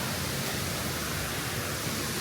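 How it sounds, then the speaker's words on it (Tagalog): Steady broadband roar of falling water at a double waterfall, heard from close by beneath the falls, constant and fairly loud with no voices. "Pumunta kami dun sa under ng waterfall."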